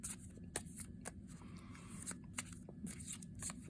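Tarot cards with a nice weight being shuffled overhand, giving a soft repeated riffling and slapping of card stock close up, with small crisp taps and no talking.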